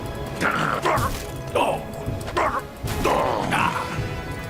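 A dog in the video game Gothic 3 barks and yips in several short bursts over noisy in-game ambience, fairly loud and close.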